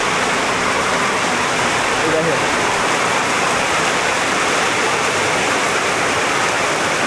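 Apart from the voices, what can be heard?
very heavy rain pouring down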